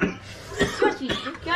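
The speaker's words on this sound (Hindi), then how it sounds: "खांसी बहुत ज्यादा हो गई है" A few short, close coughs from a woman at home, coming in quick bursts with brief pauses between them and a slightly raspy, laugh-like edge.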